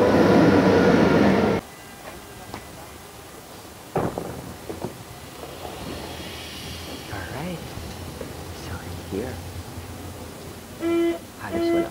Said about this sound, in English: And nandito na yung aking train.